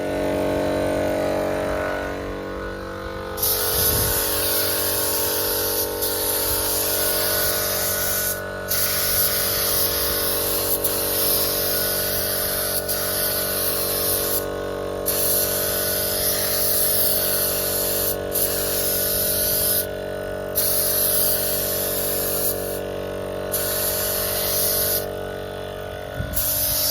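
Spray gun hissing steadily while applying gold paint to the front end of a Ford AU Fairlane, a continuous close airy spray with brief pauses between passes over a low background hum.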